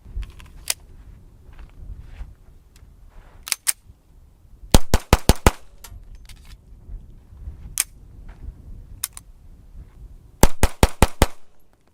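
Pistol shots fired in quick bursts, two rapid strings of five or six sharp cracks plus scattered single shots, loud and close with no talk over them.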